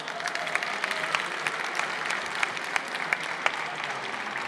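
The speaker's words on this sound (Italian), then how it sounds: "E a loro deve andare il nostro applauso." Sustained applause fills an audience hall at a national literary award ceremony, a dense, even clapping from many hands with no voices on top.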